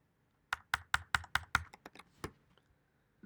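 Rapid keystrokes on a computer keyboard during a computer science lecture: about ten crisp, closely spaced taps in a quick burst, then a few softer, slower presses trailing off.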